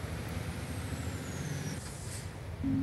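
Truck in Heavy Machines & Construction braking hard: a sharp hiss of air brakes over a low engine rumble, followed by a louder surge of engine noise near the end.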